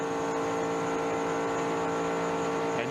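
A pack of NASCAR stock cars runs flat out down the Daytona backstretch in 1996, making a steady, continuous engine roar that holds at an even level without a break.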